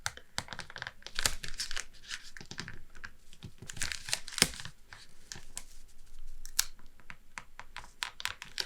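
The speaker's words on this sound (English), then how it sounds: "Let's just see if we can get this out of the packaging." Crinkly plastic packaging is pulled open around a whisky and chocolate gift, a close, steady run of crackling and tearing with sharp bursts, soft and near without any talking.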